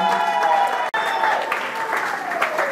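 A congregation applauds at a church wedding, a steady dense clapping that fills the room, with voices mixed in beneath it.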